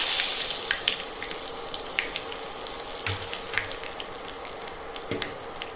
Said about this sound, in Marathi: याच्यामध्ये आता आपण कढीपत्ता टाकूया